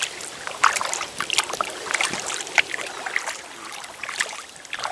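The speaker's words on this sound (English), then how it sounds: "Paddling through a tunnel of trees." Kayak paddle strokes splash and drip in a gentle, irregular rhythm on a tree-lined stretch of the Great Stour river, close and moderately loud with faint water trickle between strokes.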